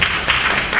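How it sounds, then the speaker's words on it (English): An audience applauds a woman seated at the front of a conference hall, a brief burst of dense, steady clapping from many hands throughout. "I want you to applaud this woman in front"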